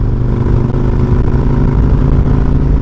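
Kawasaki Vulcan 1600 motorcycle engine idling steadily nearby, a loud continuous low rumble with dense throbbing pulses and no talking.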